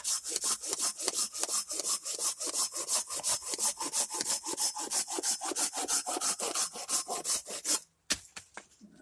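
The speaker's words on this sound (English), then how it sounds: "And then all I have to do is saw it in half." A hand saw cuts through wood for a spoon blank in fast, even back-and-forth strokes, loud and close, then pauses briefly before a few final slower strokes.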